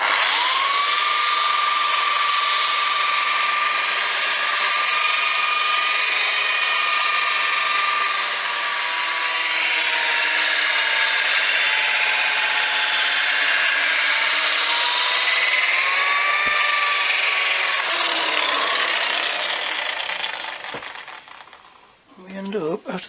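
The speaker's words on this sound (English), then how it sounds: "I'll go over with my heavy duty machine polisher" A heavy-duty machine polisher with a green stage head buffs a Les Paul-style guitar body: a loud, steady motor whine whose pitch sags and recovers under load for about twenty seconds before spinning down.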